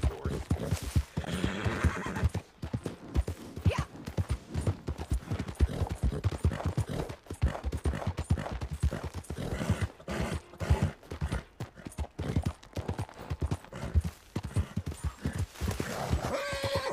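Horse in the Red Dead Online video game, set in snow, with steady clip-clopping hooves and repeated neighs and whinnies, loud and close throughout, no talking.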